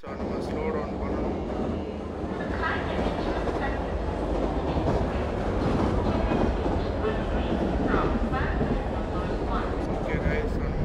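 A local commuter train in a train-simulator video game runs at speed with a steady, dense rumble and rattling clatter of wheels on track, loud and continuous throughout.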